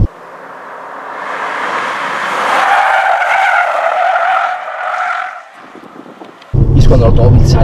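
A car's tires skid and squeal under hard braking while the car understeers, a long, loud screech that fades away, then a sudden burst of rumbling engine and tire noise nearby.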